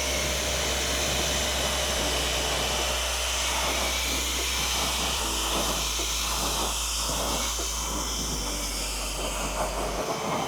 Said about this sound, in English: We're gonna go ahead and rinse the wheel and tire.